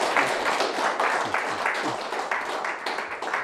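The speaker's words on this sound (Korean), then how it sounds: "큰 박수 부탁드리겠습니다" A forum audience applauds after a lecture with steady, dense clapping that fills the whole stretch without pause.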